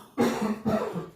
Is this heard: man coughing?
yes